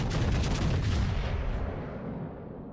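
Heavy cannon fire from a ship's broadside in a video game, a dense rumbling barrage of booming shots that rolls on for a couple of seconds before fading into a long decaying tail, with no voices.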